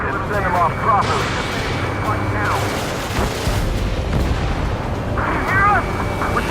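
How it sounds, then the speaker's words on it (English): Enemy tanks fire in the Ace Combat 7 combat flight game, with heavy booms rumbling continuously beneath loud radio voices talking over the battle. "We're taking fire from multiple enemy tanks!"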